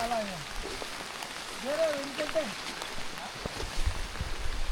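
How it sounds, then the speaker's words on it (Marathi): Heavy rain pours over a forested hill village on the Kolhapur–Ratnagiri border, a steady broad hiss under voices and a few thin, warbling tonal calls. "पाऊस आला जोरात."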